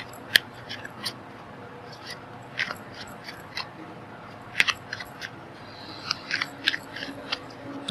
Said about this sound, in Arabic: انا طبعا بقلب الورق كتير بس عشان يبقى ايه مظبوط.